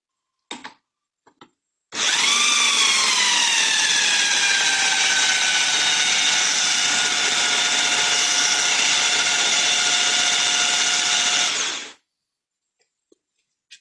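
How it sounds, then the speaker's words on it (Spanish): A small handheld drill spins a car alternator on a bench test, a steady high whine with rising then level tonal harmonics, running for about ten seconds alone before cutting off. "El problema es que el taladro es muy pequeño, su capacidad, y las revoluciones no dan para más con este pequeño taladro."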